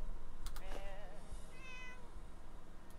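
Cats meowing in the Fallout 4 video game, two short wavering meows close by over a low steady hum, with a couple of soft thumps and no talk.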